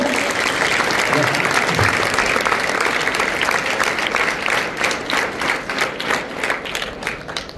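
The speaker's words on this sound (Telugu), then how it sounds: "కొట్టండి ఒకసారి చప్పట్లు గట్టిగా." A roomful of students claps loudly and vigorously in a school setting. The applause is dense and sustained throughout, then breaks into more distinct, rhythmic claps toward the end.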